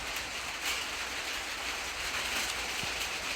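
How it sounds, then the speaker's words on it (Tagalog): Heavy rain falls on a mountain as a steady, broad hiss of even, unbroken intensity, with no voices. "lakas na yung ulan"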